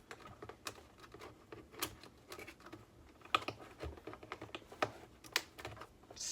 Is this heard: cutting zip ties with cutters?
yes